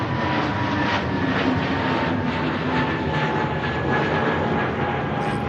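British Airways airliner climbing steeply just after takeoff from Manchester Airport, a continuous loud engine roar with a faint steady whine, heard alone.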